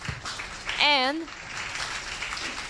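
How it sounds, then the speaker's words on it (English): Audience applause at a Startup Grind startup talk in Kuala Lumpur, honouring Impact Hub Singapore founder Grace Sai; a steady, dense wash of many hands clapping runs throughout, with one brief voice rising over it near the start. "So round of applause for her."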